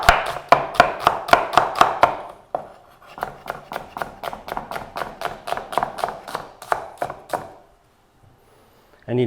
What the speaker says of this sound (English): we'll slice our onions real nice and fine